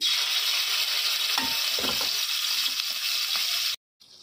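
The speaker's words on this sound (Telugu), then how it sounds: "ఆయిల్ వేడైన తర్వాత మ్యాగ్నేట్ చేసుకున్న లివర్ని వేసేద్దామండి." Marinated chicken liver hits hot oil in a pan, giving a loud, continuous hiss of frying with a couple of soft stirring knocks partway, then cutting off abruptly near the end.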